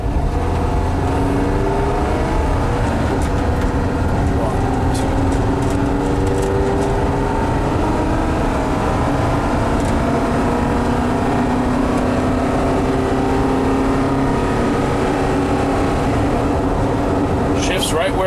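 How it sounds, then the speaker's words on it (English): Engine of a 1974 Volkswagen Westfalia camper van pulling away from a near stop and accelerating through the gears, a steady close drone that rises and shifts in pitch with each change under continuous road rumble. "We can go through all the gears again. Let's start from pretty much a stop."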